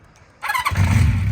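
A Honda CB350 Four motorcycle engine cold-starts on choke: a short squealing starter whir, then the engine catches and settles into a loud, steady rumble close by.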